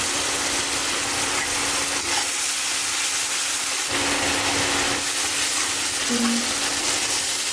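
Vegetables frying with ginger paste, garlic paste, onion and turmeric for a chicken bhuna, a steady broadband sizzle and hiss running throughout with a faint low hum and no speech.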